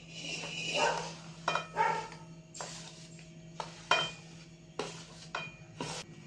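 A spoon stirs spice masala into oil for mango pickle, giving soft intermittent scrapes and light metallic clinks against the bowl, fairly quiet with no talking.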